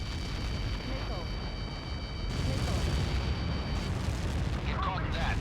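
A Helios missile impact in the Ace Combat 7 video game, a loud sustained rumbling blast with roaring noise that swells partway through and fills the whole clip.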